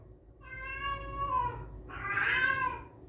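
A pet cat indoors giving two drawn-out meows, the second louder and rising into a strained, yowling tone, heard close and alone.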